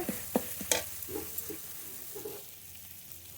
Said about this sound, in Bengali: মশলা খুব ভালো করে কষিয়ে নিয়েছি মশলা থেকে তেলও ছেড়ে দিয়েছে